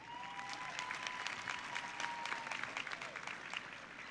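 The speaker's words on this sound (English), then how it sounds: "let's give your parents a big round of applause" Sustained applause from a crowd at an outdoor high school graduation ceremony, a steady dense patter of clapping at moderate distance, with a faint voice or tone running beneath.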